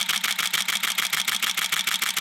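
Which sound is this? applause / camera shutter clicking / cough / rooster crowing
camera shutter clicking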